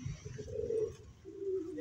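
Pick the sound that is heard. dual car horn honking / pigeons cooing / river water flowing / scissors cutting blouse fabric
pigeons cooing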